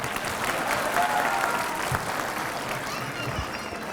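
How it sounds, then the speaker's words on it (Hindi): An audience at an evening Diwali gathering with soldiers at the border claps steadily, a dense, continuous round of applause from a crowd that holds for several seconds before easing slightly. "इनके लिए ताली बजाइए।"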